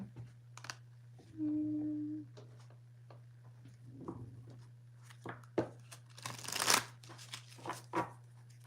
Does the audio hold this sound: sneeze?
no